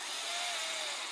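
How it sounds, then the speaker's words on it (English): Power drill whirring steadily as it bores a hole through a stack of plastic gift cards, a close, continuous high whine with no talking. "then just drill a hole right in the top"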